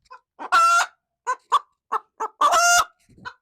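A chicken clucks close to the microphone, giving a run of short, loud squawks and clucks in irregular bursts, with two longer drawn-out calls among them.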